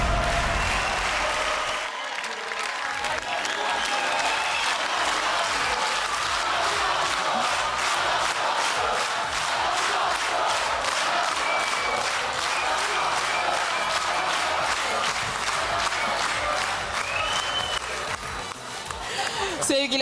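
A studio audience at a televised dance competition claps and cheers loudly and steadily for about twenty seconds, a dense, sustained wash of applause with occasional whoops, fading slightly near the end.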